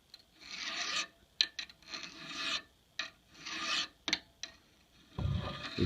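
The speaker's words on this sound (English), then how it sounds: "If you file on the outside of this spur, what you cause is you cause a taper" A hand file rasps in repeated strokes along the spur of a wood drill bit, the bursts separated by short pauses and a few sharp taps.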